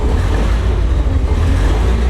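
The engine of an Alvis Saladin armoured vehicle rumbles close by at a steady low idle, given a little throttle, in a continuous deep drone with no clear rise or peak.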